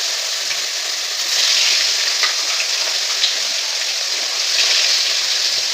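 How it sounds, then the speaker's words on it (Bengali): Tilapia fish fry in hot oil with a loud, continuous sizzling hiss that swells slightly at times, close and without talk. "এক এক করে সবগুলো মাছ তেলে ছেড়ে দেবো আমরা"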